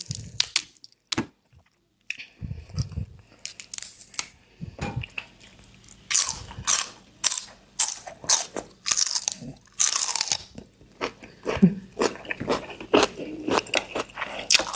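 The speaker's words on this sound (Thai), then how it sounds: "อุ้ยกรอบมากกรอบเหมือนแมงกะพรุนหัวกระสุนเลยค่ะทุกคน" Crunchy fried angel-wing jellyfish bitten and chewed up close, a loud run of crisp crackling crunches in irregular bursts with brief pauses between mouthfuls.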